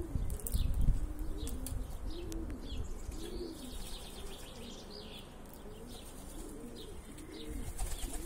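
Pigeons cooing repeatedly in soft, rolling calls, close by, one eating from a hand, with occasional wing flutters and faint chirps over a steady outdoor hum.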